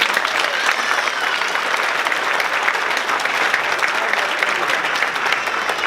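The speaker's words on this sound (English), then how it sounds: "Give them staff a big round of applause" Graduation audience in Southeast Queens applauding the school staff, a dense, sustained wash of clapping from a large crowd, loud and even with no speech over it.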